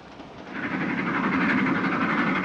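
A moving passenger train carriage in a 1946 drama rumbles steadily with a broad rushing roar that builds and holds, heard alone without talk.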